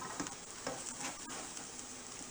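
A Monte Cristo sandwich fries gently on one side in a pan, giving a soft, steady, close sizzle with faint crackles throughout and no talking.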